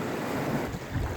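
Waves and wind out at sea on a clear day, a steady broad rush of surf with gusting wind buffeting the microphone, continuous and fairly close, with no voices.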